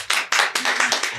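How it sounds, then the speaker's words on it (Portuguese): Crowd clapping at a church gathering to welcome a guest pastor; a brief, loud burst of close applause with rhythmic hand claps, no talking. "Aplaudam!"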